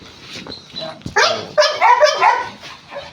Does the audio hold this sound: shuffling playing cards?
no